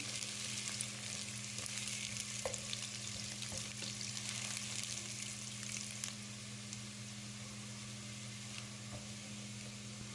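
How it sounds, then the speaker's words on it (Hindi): Steady sizzling of ginger and garlic frying in a hot pan, with occasional faint stirring clicks over a constant low hum, no talking. "इसको भी कम से कम 1 मिनट के लिए हमने अच्छी तरह से भून लेना है।"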